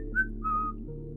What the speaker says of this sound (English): It's just a really strange whistle. It's a tune. It almost sounds classical.